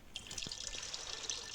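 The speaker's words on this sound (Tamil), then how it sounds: "தண்ணி ஊற்று" Water pours and trickles steadily at close range outdoors during survival and crafting work, with a few soft drips standing out from the flow.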